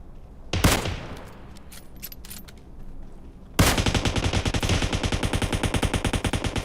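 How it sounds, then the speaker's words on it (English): Automatic gunfire in a video game: a sharp shot and a few scattered cracks at first, then a loud, rapid, sustained burst of machine-gun fire rattling right up close. "We got automatic fire."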